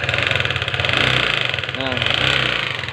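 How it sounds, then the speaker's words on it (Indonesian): A Honda CBR 150 motorcycle engine with a rattling fault runs close by, giving a loud, steady idle with a ticking clatter, while a voice speaks briefly over it. "Nah, suara mesinnya, ngeri ya suara mesinnya. Kalau ditarik gas ya makin kenceng suaranya."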